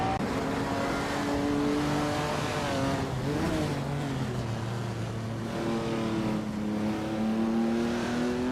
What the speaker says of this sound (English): Blanky Frankie is driving a Maserati 450C from 1956.